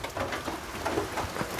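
Steady rain falls outdoors over open farmland, a continuous soft hiss of drops on surfaces with no voices over it.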